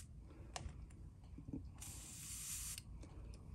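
An airbrush sprays black paint onto a custom-painted sunfish S-Crank fishing lure, a faint hiss that swells briefly for about a second amid quiet clicks and light handling noises.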